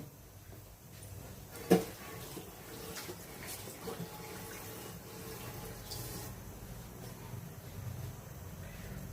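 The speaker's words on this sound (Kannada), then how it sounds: "ಅದ್ರದ್ದು ಸ್ವಲ್ಪ ನೀರು ಹಾಕ್ಬಿಡ್ತೀನಿ." Water runs steadily for several seconds as it is poured into a boiling mutton keema sambar, with a single sharp clatter near the start and faint background noise throughout.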